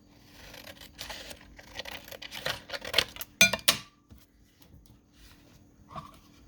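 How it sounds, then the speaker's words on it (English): Scissors cutting through scrap paper or fabric, a run of rustling, crunchy snips that builds to a few loud close cuts, then fades into quiet. "I'm going to cut this bottom off."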